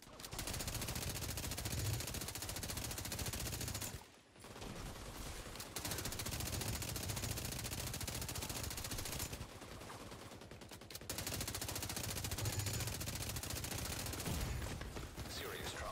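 Sustained automatic gunfire from The Division 2 rattles on loud and nearly continuous, with two brief lulls, while a quiet voice sits underneath.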